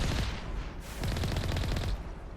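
Rapid bursts from a vehicle-mounted laser gun in the Mass Effect video game, firing in dense machine-gun volleys that stay loud and close for the whole stretch, with a brief surge and a sharp cutoff near the end.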